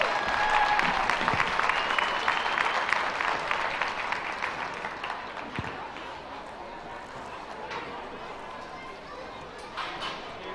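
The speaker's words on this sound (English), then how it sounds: "Let's give them all another big round of applause." Audience applause at a county youth fair livestock show for a group of young showmen: a broad crowd clapping loudly at first, then thinning and tapering over several seconds, with scattered voices and arena noise beneath.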